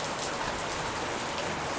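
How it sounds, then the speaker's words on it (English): Steady rain falling during the Thai wet season, an even dense hiss of drops striking surfaces, constant and moderately loud with no voices. "It's raining every day."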